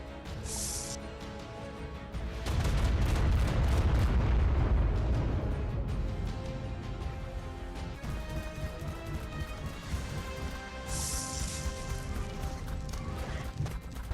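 Primal Electric Rockets blowing up in ARK Primal Fear: a heavy rumbling explosion swells and fades over several seconds amid a steady game music bed, with fainter crashes and zaps afterward, no speech.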